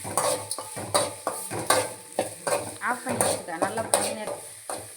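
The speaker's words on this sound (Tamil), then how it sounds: "இப்போ நல்லா வறுக்கணும்" Food sizzles in a pan as chicken curry ingredients fry, a metal spoon stirring and clinking against it in frequent scraping strokes, close by, with a faint voice briefly underneath.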